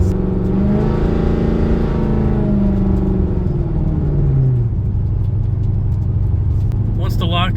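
A 2004–2006 Pontiac GTO engine revs up close and loud, climbing to a strong throaty peak and then sliding back down to a deep, steady idle rumble.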